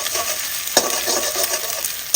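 Eggs sizzle in a pan while being stirred into crumbly scrambled egg, a steady bright frying hiss broken by a few sharp scrapes of the spatula, close and with no talking.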